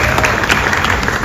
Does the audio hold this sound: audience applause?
yes